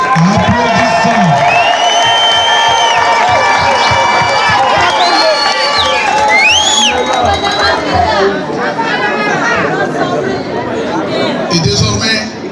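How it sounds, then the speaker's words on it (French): A large outdoor crowd at a governor's speech in Lusambo cheering, ululating and shouting loudly, with chatter and whistling-like calls rising over a continuous roar. "je vous invite tous à applaudir très fort le Seigneur"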